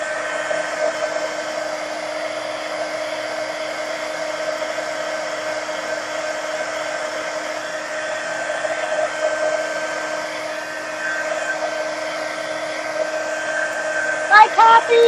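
Hair dryer running steadily at close range to dry paint on an art journal page, a continuous whir through the whole stretch, with a few clicks and knocks near the end.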